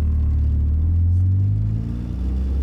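Manual-transmission car pulling away from a stop in first gear, a steady low engine rumble rising slightly as it moves off, close and continuous with no talking.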